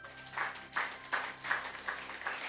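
A church congregation gives slow, scattered claps during a sermon. About seven soft claps arrive at an even pace and sound fairly faint and distant.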